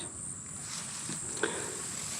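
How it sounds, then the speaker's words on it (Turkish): Crickets chirp at night near a small bungalow in India, a continuous high, thin trill held steady in the background alongside a few faint soft rustles, with no talking. "Cırcır böceklerinin sesi."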